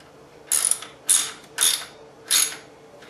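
Ratchet wrench tightening bolts on a Stamina Cardio exercise bike display, four quick bursts of rapid clicking separated by short pauses, close and clear with no talk.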